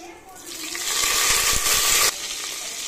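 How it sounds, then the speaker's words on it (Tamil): Mint and coriander leaves dropped into hot oil while making tomato rice, giving a loud close sizzle that swells for about two seconds with stirring clatter, then suddenly settles to a steady lower fry. "இப்போ பார்த்தீங்கன்னா புதினா, கொத்தமல்லி சேர்த்துக்கலாம்."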